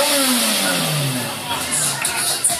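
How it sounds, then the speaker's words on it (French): Car engine revved in a quick test acceleration at a garage, its pitch sweeping and dropping through a couple of revs while someone talks over it close by. "Fais-nous un petit essai accélérateur."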